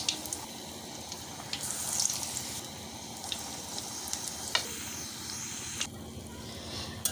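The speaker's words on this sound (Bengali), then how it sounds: "এক পাশটা মোটামুটি ভাজা হলে আরেক পাশটা করে দিতে হবে।" Batter-dipped rice flour fritters frying in oil for an evening snack, a quiet, continuous sizzle with a few light clicks and knocks scattered through it.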